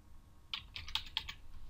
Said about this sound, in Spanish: Vamos a ingresar nuestra contraseña